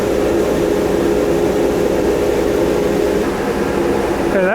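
A Harbor Freight Central Machinery 2HP dust collector running on a 4-inch pipe, a loud steady roaring whoosh with a constant motor hum, unbroken throughout and ending in a brief rising whine.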